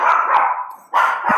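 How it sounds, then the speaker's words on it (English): A dog barks several times in the middle of an online webinar, loud and close, the barks coming in quick bursts with a brief pause between them. "that's Pat's webinar dog"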